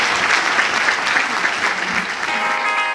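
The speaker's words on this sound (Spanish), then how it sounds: "Recibamos por favor con un caluroso aplauso este desfile maravilloso de Ana" An audience claps steadily at a fashion show runway presentation on Planeta Urbano, the dense applause filling the room without a break before it trails off at the very end.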